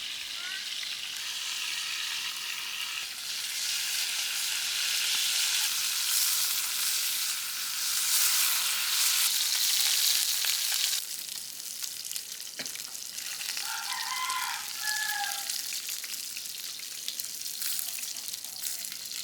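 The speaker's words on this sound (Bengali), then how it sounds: "তেলে ভাজার জন্য কড়াই দিয়ে দেবো" Rui fish sizzling and frying steadily in hot oil in a wok, a continuous broadband crackle that eases slightly partway through, with faint clinks and no voices.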